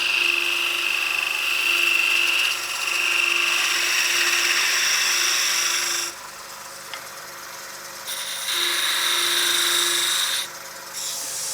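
A wood lathe turns a peppermill blank while a skew chisel cuts it, giving a steady high whine with a low hum beneath. The cutting comes in several sustained passes separated by short pauses, close and fairly loud, with no talking.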